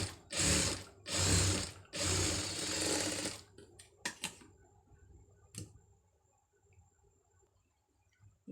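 Domestic sewing machine running a straight stitch on fabric for a hook-and-eye placket: three loud bursts of rapid stitching, then quieter handling clicks and a few sharp knocks with no talking.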